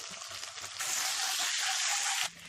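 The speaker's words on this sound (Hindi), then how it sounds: "इसे भी भून लें, कच्ची बू जाने तक भूनते रहिए" Ginger garlic paste frying in a pan for palak paneer, a steady close hiss of sizzling oil that swells louder midway, then drops back, with no voices.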